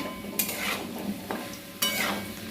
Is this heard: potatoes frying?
yes